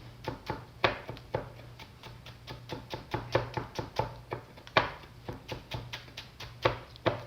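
Kitchen knife finely chopping green onion on a cutting board, a steady run of close, crisp taps with a few stronger knocks and no talking.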